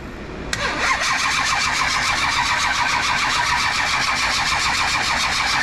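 A 1965 Shelby Cobra with a 454 big block cranks on its starter with a steady, fast rhythmic churn that starts abruptly and runs loud and continuous without catching.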